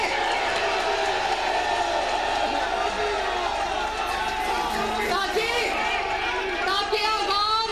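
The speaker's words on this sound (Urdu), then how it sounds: "یہ نعرے جو آپ لگا رہے ہیں" Dense crowd noise from a political rally in Sheikhupura, many voices shouting and cheering together in continuous, loud, rhythmic bursts that fill the whole clip.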